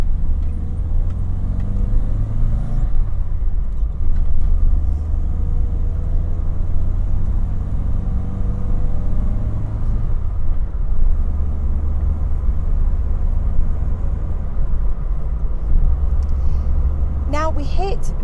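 A 1970s Toyota Starlet, 60 series, pulling away and running up through its gears, a steady close engine drone and road rumble that rises and eases with each shift, with someone talking over it.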